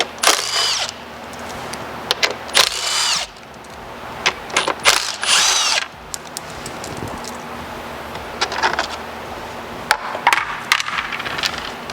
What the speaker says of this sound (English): So you want to take your 13 millimeter on your impact and just remove the 5 nuts on the outside of the case.